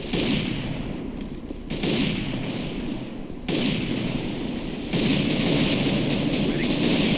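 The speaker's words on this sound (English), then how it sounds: "Very good shooting." Loud, sustained rifle fire from a Counter-Strike: Global Offensive match roars in continuous volleys, dropping briefly twice before surging again into heavier shooting.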